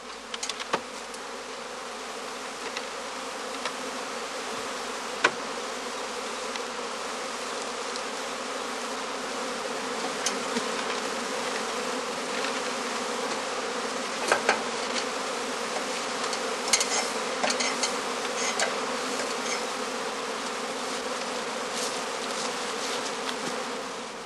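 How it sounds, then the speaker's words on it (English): Honey bee swarms drone steadily around straw skeps in an outdoor quadrangle as a beekeeper gathers them, a dense, continuous buzz of many insects with occasional louder passes close by, no voices. "As more and more swarms are thrown off and collect under the branches and the eaves"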